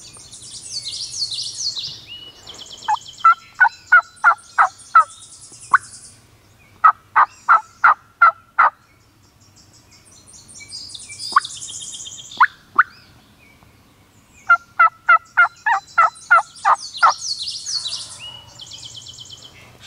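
Wild turkeys gobble repeatedly outdoors, with rapid rattling bursts and high yelping calls. The calls are fairly loud and come in several separate volleys.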